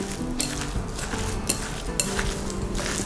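Soybean flour mixture being stirred in a bowl, with a continuous scraping swirl and occasional light clinks of utensil against the container.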